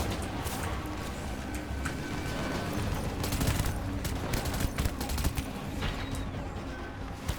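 Dense machine gun fire in a Death Stranding battle, a rapid, continuous rattle of shots with louder bursts throughout, steady and fairly close with no voices.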